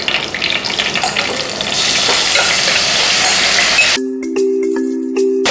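A mixture is tipped into hot oil in a pan and stirred while frying for couscous yassa with chicken, giving a loud, dense sizzle that cuts off abruptly into quieter clinks and a faint hum.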